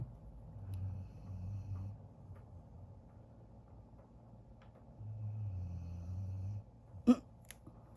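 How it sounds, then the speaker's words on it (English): A pet snores softly and close by in a quiet room, with slow, low rumbling breaths that swell and fade in a few long cycles, followed by a brief sharp sound near the end. "snoring is like a lullaby"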